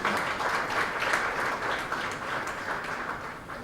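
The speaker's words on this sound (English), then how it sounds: "Can we have a round of applause, please?" An audience at an awards event applauds the recipients, a moderate, evenly sustained patter of many hands clapping, somewhat distant and without speech.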